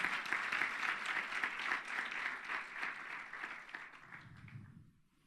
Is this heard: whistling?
no